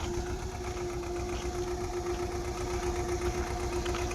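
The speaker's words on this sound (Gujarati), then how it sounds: "ત્રીજામાં ટ્રેક્ટર હાલે છે સવરાજ સાતસો ચોવીસ" Steady, close diesel thrum of a Swaraj 724 tractor running in third gear while driving a pesticide spray pump, a constant mechanical hum with no voices.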